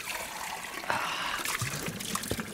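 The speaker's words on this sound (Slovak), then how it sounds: "Ideme si nabrať čistú pramenitú vodu na teplý čaj." Clear spring water trickling and dribbling steadily, close by, as it is collected in the outdoors near a mountain hut for making hot tea, a continuous gentle flow with small splashes.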